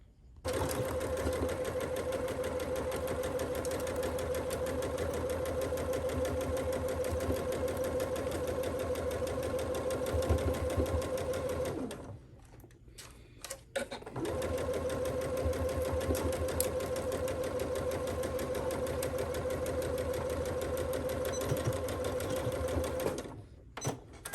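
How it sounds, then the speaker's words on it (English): A sewing machine stitches a seam on a summer peplum blouse at a half-inch allowance, whirring steadily and close for about eleven seconds, pausing briefly, then running continuously again. "we're going to pin and sew right there"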